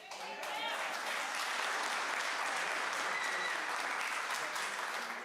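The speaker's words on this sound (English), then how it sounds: "We have typically allowed applause after somebody speaks in public comment" An audience at a school board of education meeting applauds after a public comment speaker, a sustained, even wash of many hands clapping at moderate distance for the whole stretch.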